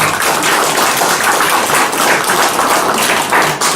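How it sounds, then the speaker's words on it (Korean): A church congregation claps in welcome for members during a Sunday morning service, a loud, close, steady round of applause filling the whole stretch. "박수로 환영하겠습니다"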